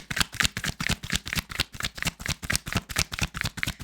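Tarot cards are shuffled in quick, even riffling bursts, a close and crisp rhythmic flutter that repeats without pause and plays alone with no talking.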